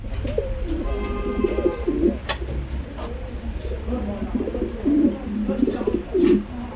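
Pigeons at a pigeon farm coo close by in repeated soft, throaty rolls throughout. Someone talks over the cooing.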